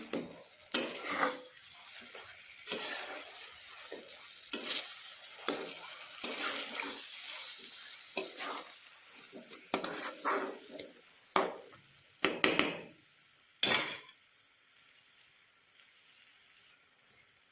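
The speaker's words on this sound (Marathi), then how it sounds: "छान मिसळून घ्यायची या प्रकारे ही भाजी मी छान असं भात आणि भाजी मिसळून घेतलेली आहे" Cooked ambadi leaf curry being stirred into rice in a pan, giving scattered soft scrapes and clinks of a spoon against metal over a faint background sizzle, with quiet gaps between strokes.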